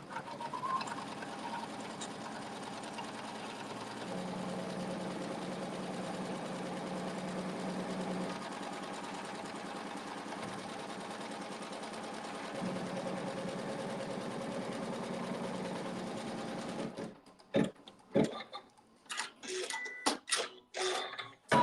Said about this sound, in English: stitch a basting stitch around the perimeter.